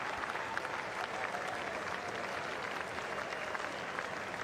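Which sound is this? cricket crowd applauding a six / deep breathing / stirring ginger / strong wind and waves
cricket crowd applauding a six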